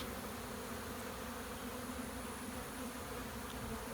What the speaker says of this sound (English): Why are you filming in the middle of all those bees, you ask?